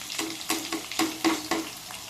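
Garlic and onions frying in a pan for sweet pumpkin curry, a soft steady sizzle with regular stirring strokes roughly every quarter second, close and alone.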